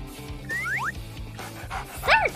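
Small dog yips and whimpers briefly in an indoor pet play setting, short high-pitched squeaks over a steady background of music and room noise.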